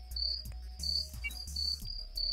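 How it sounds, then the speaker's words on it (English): A cricket chirping sound effect played from a soundboard button, a close, loud series of rhythmic high-pitched trills repeating about every half second with a low hum underneath. "Where's that Cricket's button at?"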